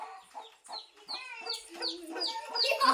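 Chicks cluck and cheep close by in a busy run of short calls that grow louder toward the end.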